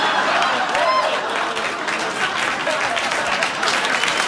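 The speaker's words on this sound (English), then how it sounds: "Also, if you applaud and cheer and think I'm great and I haven't done anything, people will think I'm Barack Obama." A late-night talk show studio audience applauds and cheers, a dense, sustained burst of clapping with some whoops, fairly loud and continuous for a few seconds.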